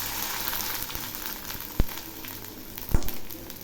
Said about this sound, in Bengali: তেল গরম হয়েছে, এবার আমি পাঁপড়গুলো ভেজে নিচ্ছি।